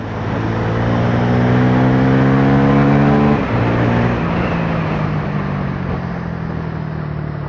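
A 250cc motorcycle accelerates hard along a city road, its engine note rising steadily and loudly, with a brief dip at a gear change before pulling on with a steady drone.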